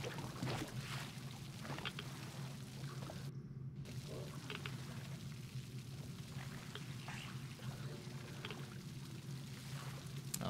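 A boat glides down a river in the shooter game Metro Exodus with a steady, low churning wash of water and scattered splashy drips. It sounds continuous and fairly quiet throughout, with no voices.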